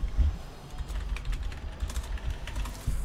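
Fingers tap rapidly on a computer keyboard during a Heroes of the Storm gaming session, with quick irregular clicks fairly close.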